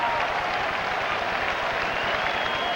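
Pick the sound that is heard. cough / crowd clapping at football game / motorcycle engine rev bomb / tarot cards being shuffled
crowd clapping at football game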